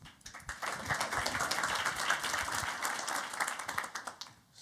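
Conference audience applauding after a speaker at a policy event on rural areas and EU budget, a steady dense patter of many hands clapping that holds for several seconds before tapering off.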